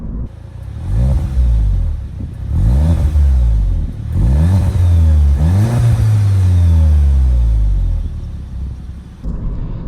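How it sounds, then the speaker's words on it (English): A 2017 Volkswagen Golf GTI with a six-speed manual and performance exhaust, its four-cylinder engine revving loudly and throatily as it climbs through several gears, with the pitch rising and dropping at each shift. "this Golf GTI does come with the performance exhaust, which makes it sound a little more throaty than that traditional 4-cylinder"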